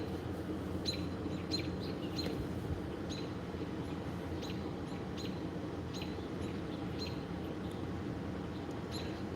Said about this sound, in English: we've got robins yelling